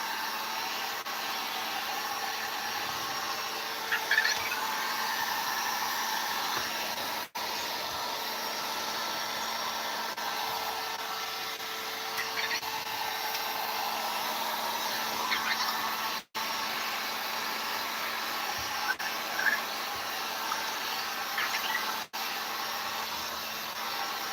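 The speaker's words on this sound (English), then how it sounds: "Just don't keep the heat gun in one consistent area, or you will wipe out the plastic." A heat gun blows hot air over plastic RC parts, a steady, constant whoosh held at even loudness for the whole stretch, broken only by a few brief cutouts.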